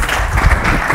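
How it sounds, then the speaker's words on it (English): An audience applauds in a brief, dense burst of clapping that fills the moment at a loud, close level without any break. "Give this man a round of applause."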